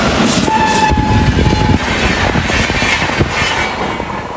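A train passes close by at full volume, with a heavy roar, rhythmic clickety-clack from the wheels and a brief horn note near the start.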